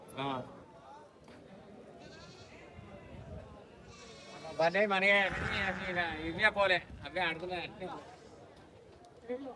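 Sheep and goats bleat at a Sunday livestock market at Chilpur Gutta, several calls rising loud and close from midway, mixed with steady talk and bargaining voices throughout.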